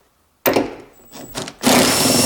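Seat bolt being worked loose in a Toyota Corolla, with a sudden loud rasping, grinding burst, a quieter scraping stretch, then a sustained harsh grinding close by. No voice.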